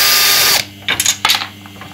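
A power screwdriver backs out the screws holding an air conditioner's suction service valve. A loud whirring spin cuts off after half a second, followed by a few light metallic clicks and knocks.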